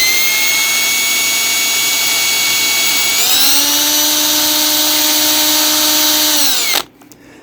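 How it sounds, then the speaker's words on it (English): A power drill whines at high speed, spinning a model train motor armature shaft against sandpaper; the steady pitch shifts upward under load, then the drill cuts off abruptly near the end. "Now we're going to take the drill and give light pressure on the armature on the sandpaper"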